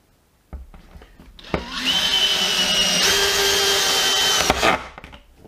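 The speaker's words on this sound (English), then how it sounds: "I'll put some screws in here" A power driver drives Forge Fast screws into wood, its motor whirring up to a steady high whine for several seconds under load before a click as it stops; no talk.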